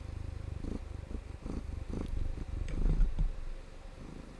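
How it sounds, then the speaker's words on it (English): Soft, steady cat purring up close, a low rhythmic rumble swelling in even pulses with occasional faint snuffling. "she's like purring and sniffing the mic"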